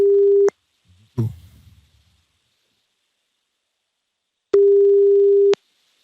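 A phone ringback tone on an outgoing call: two steady buzzing rings, one short at the start and one full ring near the end, with a brief rustle in between.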